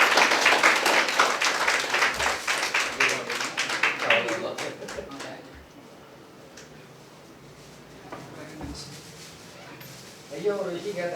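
An audience claps loudly and steadily through the opening seconds at a ceremony honouring a guest, then the clapping fades into a quieter room with murmuring voices.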